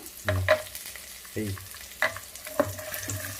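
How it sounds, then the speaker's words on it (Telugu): Cashews fry in a pan for palak rice, with a soft sizzle under a few close scraping and clinking stirs spaced irregularly. "జీడిపప్పు బాగా వేస్తున్నాను."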